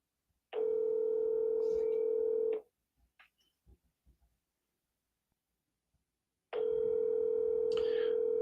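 A telephone dial tone hums steadily for about two seconds, followed by a pause with a few faint clicks and bumps, then the same continuous tone returns and holds to the end.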